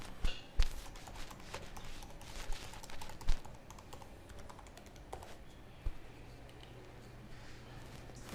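Password typed on a computer keyboard, a few sharp, separate keystrokes near the start followed by quieter scattered taps over low room noise.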